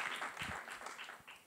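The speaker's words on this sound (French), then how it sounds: "Je propose qu'on applaudisse notre interlocuteur." Short, thin applause from a lecture audience after a talk on elementary particles, individual claps audible and uneven in rhythm, quiet and somewhat distant.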